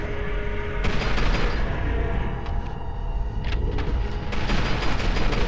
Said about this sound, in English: Oh, you're shooting me already.